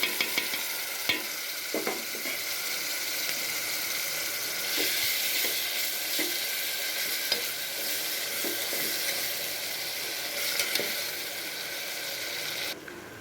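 Steady, loud sizzling of chopped tomatoes frying in a pan for mutton biryani runs throughout, with occasional scraping and stirring clicks on top.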